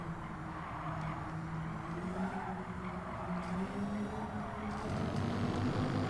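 Skoda VGT race car in Gran Turismo at Tsukuba, its engine droning steadily with shifting pitch as it revs, with faint tyre skids, the sound close and continuous.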